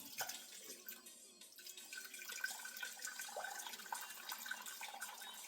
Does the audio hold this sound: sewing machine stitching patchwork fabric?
no